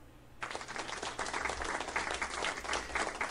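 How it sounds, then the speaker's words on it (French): A canned applause sound effect starts abruptly after a moment of near silence and then keeps going as a steady burst of many hands clapping, set off by clicking a card in software. "si je clique sur cette carte, eh bien, ça devrait provoquer des applaudissements"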